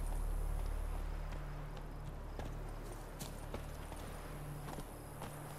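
Horse hooves clip-clop at a walking pace in The Witcher 3, regular, fairly soft steps over a low steady ambient drone, with no talk.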